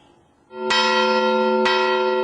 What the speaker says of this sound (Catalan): Toc de sometent des del campanar de l'església romànica del Bruc.